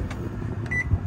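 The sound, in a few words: 800 watt microwave in motorhome beeping as buttons pressed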